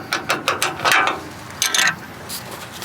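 Ratcheting wrench clicks in short bursts while a nut is loosened on a Bobcat with rust in its fuel system, close and moderately loud, with a few rapid clicking runs separated by brief pauses.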